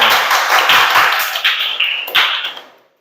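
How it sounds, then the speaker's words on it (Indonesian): Applause in a classroom: a burst of loud, dense clapping from a group of students that gradually thins and fades out over about three seconds. "beri tepuk tangan dulu."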